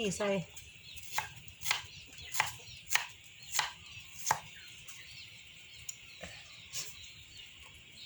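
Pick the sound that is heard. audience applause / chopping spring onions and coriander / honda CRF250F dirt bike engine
chopping spring onions and coriander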